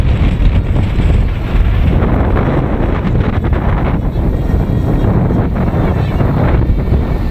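Strong wind of about 25 mph buffeting the microphone at an RC model plane flying site, a continuous low rumbling roar with gusty fluctuations throughout.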